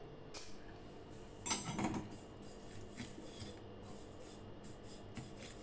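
Vermicelli being roasted in a spoonful of ghee in a wok for seviyan payasam, a soft continuous scraping and rustling with one louder stirring scrape partway through.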